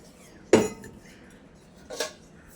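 Metal puja vessels and a plate clink as they are handled, two sharp clanks about a second and a half apart, close and clear in a quiet room.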